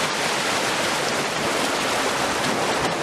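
Rushing water of a stream in Jumpoff Canyon, a dense, loud broadband roar of churning whitewater, steady and close, with no voices.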